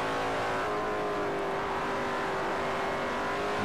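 Racing car engine in Forza Motorsport 4 on the Suzuka circuit, a loud, sustained high rev drone that holds steady through a corner with slight pitch shifts, no talking.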